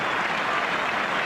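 Stadium crowd at an international football friendly, Republic of Ireland against Brazil, applauding a play with a steady, dense roar of clapping and noise heard from a distance, no voices standing out.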